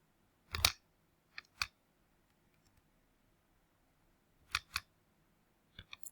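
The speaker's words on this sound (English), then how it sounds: "Then I just plug it in my calculator to approximate." Calculator keys pressed while working a natural-log problem in a math review lesson: scattered sharp clicks, first a few single presses then small clustered bursts, close by and isolated against near silence.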